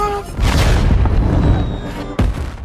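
A time bomb in a sci-fi film detonates with a heavy boom and a rumbling roar that fades, then a second sharp blast hits near the end.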